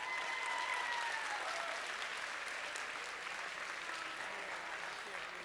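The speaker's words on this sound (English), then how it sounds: "Let's give them a round of applause." Crowd applause at a school robotics qualifier tournament for the completed alliances, a steady, fairly quiet wash of clapping that slowly fades, with a faint sliding electronic tone and some background voices underneath.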